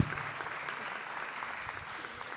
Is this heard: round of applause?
yes